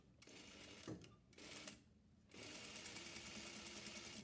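A home sewing machine set to a short straight stitch whirs in steady bursts while sewing pajama pants fabric, with a brief pause, then a longer continuous run of rapid needle chatter, close and fairly quiet.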